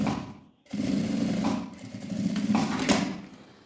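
A sewing machine runs steadily, stitching fabric for a small glasses case, with a brief pause before a continuous buzzing hum that swells and eases slightly; no one talks.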